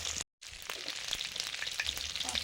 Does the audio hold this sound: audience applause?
no